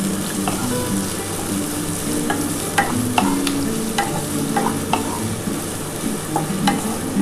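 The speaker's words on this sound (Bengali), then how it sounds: "এবার এটা ভালো করে কিন্তু আমি হালকা করে ভাজবো, খুব বেশি ভাজবো না" Chopped green beans fry lightly in a pan for home-style egg chowmein, giving a steady close sizzle broken by irregular sharp scrapes and clicks from stirring, with no voices.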